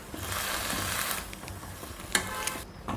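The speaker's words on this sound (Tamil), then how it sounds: "இது மூடி போட்டு நல்லா வதக்கிடலாம்" Agathi spinach with soaked lentils and salt sautéing in a covered pan, giving a steady broadband sizzle with a few sharp clicks and pops near the end.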